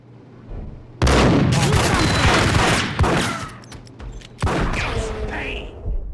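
Max Payne shootout with a loud burst of rapid gunfire erupting after a quiet second, followed by scattered shots and a second volley, with brief voices.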